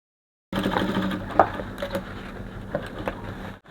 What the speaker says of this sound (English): go back to my machine and I'll top stitch here together